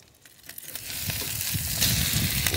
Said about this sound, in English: We're dipping the toast here and we're frying it up.